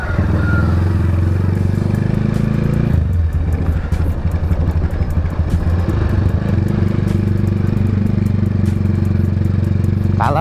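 A motorcycle engine warming up, running steadily and loudly throughout with a dense low rumble, briefly dipping in pitch around the middle before settling back to a constant idle with some rattling clatter.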